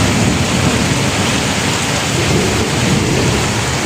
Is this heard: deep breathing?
no